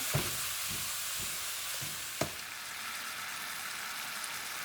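Three pounds of meat browning together in one pot for spaghetti, giving a steady close sizzle with a few louder pops and stirring knocks early on.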